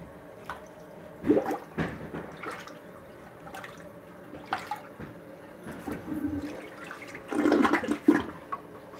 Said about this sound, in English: Here we are, using the plunger.